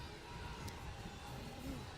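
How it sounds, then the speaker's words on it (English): Wrestling arena crowd in the video game WWE 2K25 roaring steadily throughout, a dense wash of cheering that stays constant beneath a commentator's voice. "All this crowd on its feet now."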